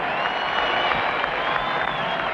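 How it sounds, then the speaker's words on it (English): A sellout basketball crowd at a Los Angeles Lakers game in the 1979-80 season roars in a steady, dense wash of cheering and applause that holds at an even, loud level without a break. "The sellout crowd urges the Lakers to get back in the hunt."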